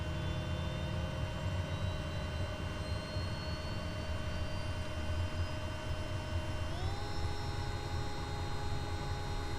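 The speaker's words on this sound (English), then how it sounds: "I still love the sound of this engine when it's getting started" A Kodiak 100 turboprop engine in Microsoft Flight Simulator 2020 whines and hums steadily during start-up, with tones rising in pitch partway through as it spools toward idle; no one speaks.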